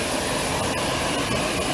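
Jet airliner engines on the ground just after landing at Ningbo airport, a loud continuous broadband roar with a high whine, steady and close throughout, no talking.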